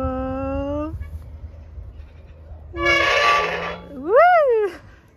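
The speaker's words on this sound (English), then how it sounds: "The squeaky roller. It's very squeaky." Loud metallic squeals and a rising, falling screech from a squeaky rolling mechanism, with a person's voice in between.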